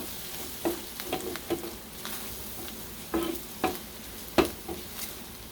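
Kapampangan kilawin chicken is sautéed in oil in a pan, a steady sizzle broken by periodic scraping, clattering stirs of the spatula, close and clear without talking.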